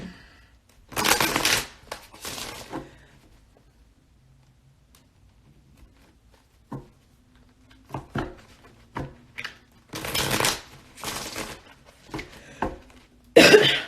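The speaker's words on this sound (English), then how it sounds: "Let me quit shuffling." Cards are shuffled in several quick riffling bursts, separated by quiet pauses and a few soft thumps and clicks nearby.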